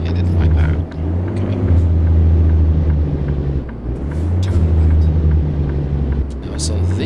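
A 2010 Detroit DD15 530 hp truck engine in American Truck Simulator, retuned, downshifting on a non-interstate road: a loud, steady low diesel drone with brief dips in level as the gears change, continuous and close.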